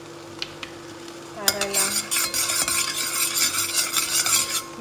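Onion, garlic and ginger hit hot olive oil in a pan and break into a steady close sizzle, with a utensil scraping and stirring through it and a brief spoken word over the start.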